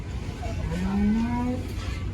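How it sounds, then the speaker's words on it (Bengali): A single low moo rises briefly from a cow amid a noisy background hum of a busy outdoor crowd at Gabtali cattle market in Bangladesh, during Qurbani season. "চমৎকার গরুগুলো আসতে শুরু করেছে গাবতলী হাটে"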